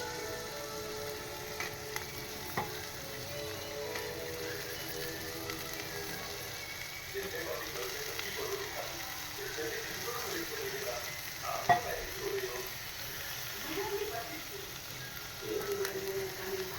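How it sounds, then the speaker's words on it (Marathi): Fresh cashews stirred into potato bhaji frying in a pan, a long, steady sizzle with occasional clinks and scrapes of stirring, close and continuous with no talk over it. "आता हे आपण ओले काजू टाकून घेतो"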